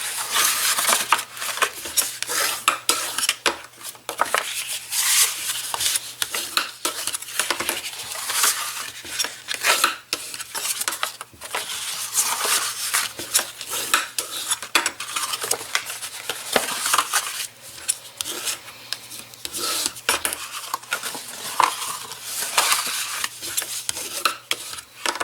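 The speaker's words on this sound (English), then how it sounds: "Now what you're going to do is just burnish all your score lines." Wooden or metal tool burnishing score lines on a slab of clay for a handmade teapot: close, continuous rubbing and rasping strokes in quick, uneven rhythm, with no talking.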